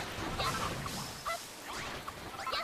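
Chicken in the Dragon Quest Builders 2 game giving several short, bright clucking calls over a busy ambient game background, with no talking.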